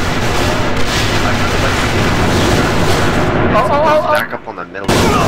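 Gunfire aimed at a tank in the online shooter AVA at a competitive match, a dense, continuous barrage of shots and booms that briefly drops out near the end before surging back at full loudness.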